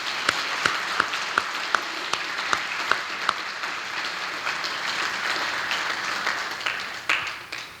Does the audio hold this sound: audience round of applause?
yes